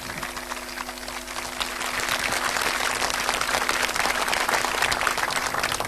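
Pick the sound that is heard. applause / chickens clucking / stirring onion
applause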